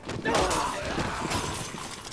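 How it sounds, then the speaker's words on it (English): A loud smashing crash as a cash register breaks in a zombie video game, with scattered breaking debris, followed by a noisy, cluttered game background. "You broke the cash register"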